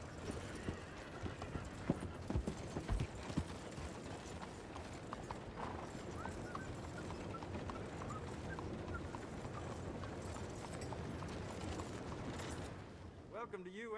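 Horse hooves clip-clop steadily in Red Dead Redemption 2, a continuous rhythmic trot set within a dense, busy game soundscape that runs for most of the stretch before thinning at the end.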